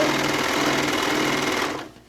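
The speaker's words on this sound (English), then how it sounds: "If you don't have a serger at home, just sew them together with your sewing machine. I'm using a 4 thread today." A 4-thread serger sews a seam on a fat-quarter tote bag with a fast, steady mechanical whir that runs continuously, then cuts off and fades near the end.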